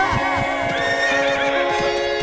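A horse neighs loudly and close, its whinny rising and falling over a steady droning background with some rhythmic clip-clop-like beats.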